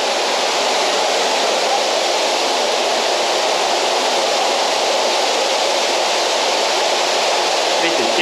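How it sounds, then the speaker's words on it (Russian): A waterfall in a Japanese garden at the Mriya resort in Crimea pours in a loud, unbroken roar close by, a dense steady rush of falling water that holds level throughout. "здесь можно пройти прямо под водопадом."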